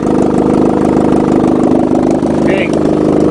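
A Mazda engine idles steadily up close, a continuous low rumble from its exhaust with an even throb that never revs, and a brief faint voice partway through.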